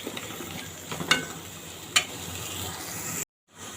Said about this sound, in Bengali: স্বাদ মতো লবণ, দিয়ে এখন মশলাটাকে ভালোভাবে কষিয়ে নেব।